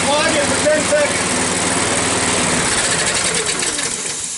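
A primed small engine, started up to be run and fogged, runs with a loud, steady buzzing drone close by, then fades slightly near the end as it begins to die.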